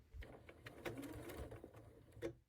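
A home sewing machine stitches and then backstitches a quilt seam on a Rocky Star quilt, its needle running in a steady, close mechanical whir with short pauses and quiet clicks.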